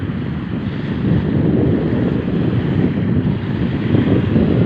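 Steady wind buffets the microphone over a constant roar of surf at Dolomite Beach on Manila Bay, loud and continuous with no pauses.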